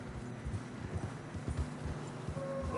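Horse hooves clip-clop in fresh snow in the video game Red Dead Redemption 2, a quiet, steady walking rhythm of soft muffled thuds heard close and alone.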